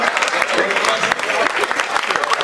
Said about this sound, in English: Everyone, please give a round of applause to this lovely lady that just won.